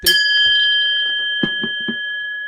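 A gong brought back from China is struck once, leaving a bright, sustained metallic ring that slowly fades, with a few soft knocks underneath.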